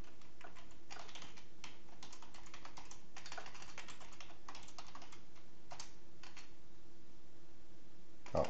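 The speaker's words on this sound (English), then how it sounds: "Let's type out our equation here." Typing on a computer keyboard while entering a math equation, with close, moderately quiet clusters of key clicks in bursts and short pauses, tapering off near the end.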